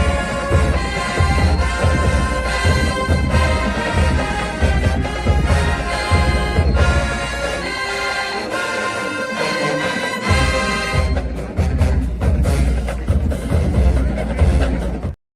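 High school marching band playing at a football stadium in Clayton County, Georgia, loud and full with brass and pounding drums in a steady beat, cutting off abruptly at the end.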